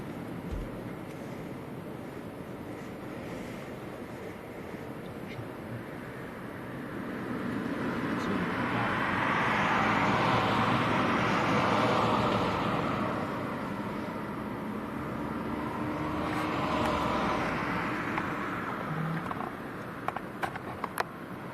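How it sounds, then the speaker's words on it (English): An EasyJet airliner heading from Gatwick to Inverness passes high overhead near Leeds Bradford on a stormy Christmas Eve: a distant jet rumble swells, peaks and fades under steady wind noise. "Actually managed to see an overflight going past. That's EasyJet."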